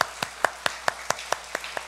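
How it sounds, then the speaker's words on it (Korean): A church congregation applauds to welcome a new member at a Sunday service, with sharp, evenly spaced claps in a steady rhythm at moderate volume and no talking. "우리 박수로 환영하겠습니다."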